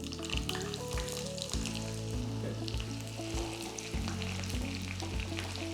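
Shallots and mustard seeds frying in hot oil for a varutharacha sambar tempering, giving a steady close sizzle with crackling pops throughout and no talk.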